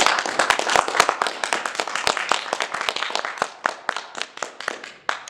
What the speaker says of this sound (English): Ladies and gentlemen, just listen to that applause.